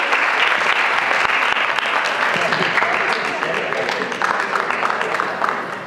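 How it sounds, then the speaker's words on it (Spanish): An audience at a public gathering gives a loud, sustained round of applause, dense clapping that holds steady and tapers slightly toward the end. "un fuerte y nutrido aplauso para Belsa, por favor"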